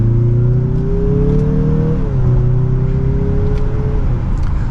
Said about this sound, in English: I give it a slight acceleration. Very peppy for this turbo engine.